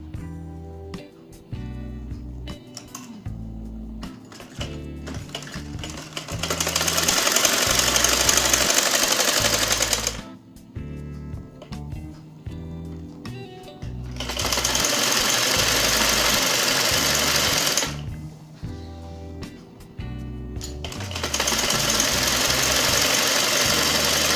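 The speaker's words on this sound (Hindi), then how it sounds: "इसको इधर रख के अब सिलाई लगाते हैं।" Electric sewing machine stitching a shalwar, running in three loud sustained bursts separated by quieter pauses with a steady mechanical rhythm underneath.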